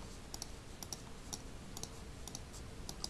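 Crisp computer mouse clicks tap out in short, irregular pairs and singles while editing in an online photo editor, close and alone against a faint hiss.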